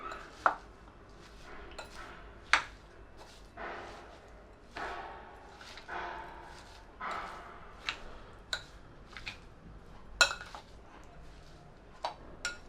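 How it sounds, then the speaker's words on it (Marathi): Fresh turmeric pickle with ginger gets mixed in a bowl: a spoon clicks and scrapes against the dish in sparse, uneven taps, quiet and close, with no voices. "आणि आलं आणि थोडंसं मिक्स करून घेते"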